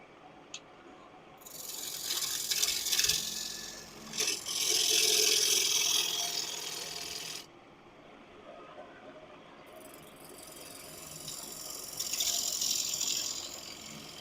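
A wooden workpiece spins on a lathe at a slow 600 RPM while the tool cuts it, giving bursts of loud, steady, rasping scrape that start and stop repeatedly and carry a faint rattle.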